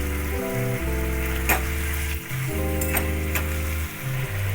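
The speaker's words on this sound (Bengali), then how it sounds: "এবারে এতে আমি বেগুন কুমড়ো ভাজা দিলাম, একটু নেড়ে দিলাম।" Fried eggplant and pumpkin pieces are tossed and stirred in a pan, giving a constant sizzle broken by a few sharp scrapes and clatters. A low, steady hum drones underneath.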